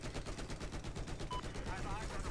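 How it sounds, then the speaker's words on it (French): Rapid automatic gunfire with blasts rattles through a Battlefield 4 firefight, dense and loud throughout the short burst, with faint voices mixed underneath. "J'ai tiré sur sa roquette, il a explosé"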